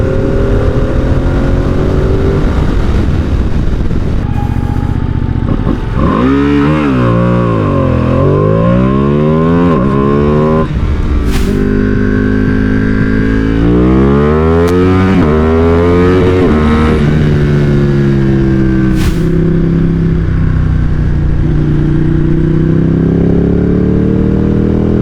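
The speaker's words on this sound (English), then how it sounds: "Fifth gear roll on from 50 miles an hour up to maybe 80." A Ducati Panigale V2 sport bike pulls a fifth-gear roll-on from about 50 to 80 mph, its engine note climbing loud and steady in rising sweeps with brief dips, close and continuous throughout, with no talking.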